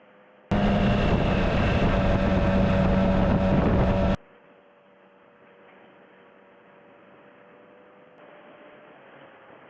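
Loud broadband roar of wind rushing past while riding at 100 km/h for a few seconds, then it cuts abruptly to a much quieter steady hum.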